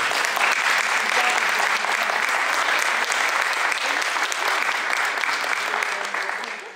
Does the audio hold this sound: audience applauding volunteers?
yes